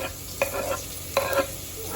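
Fresh peas, tomato and finely chopped green chili are mixed in a pan for masale bhat, two quick spatula scrapes over a low sizzle, close and brief.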